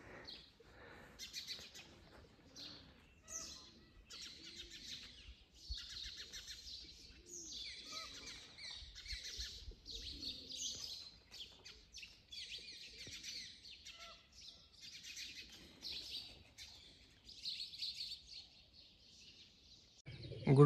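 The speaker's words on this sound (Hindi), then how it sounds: "जहाँ पे दिन भर काफ़ी सारे पंछी चहचहाते रहते हैं" Many small birds, including peacocks, chirp and twitter continuously in a lively chorus in a garden in Lakhpat, with occasional soft cooing beneath.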